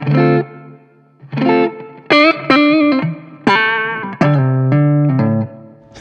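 An electric guitar plays through a G20 Infinium 20-watt Class-A tube amplifier head with reverb on, picking a short phrase of separate sustained notes whose tails ring out and fade.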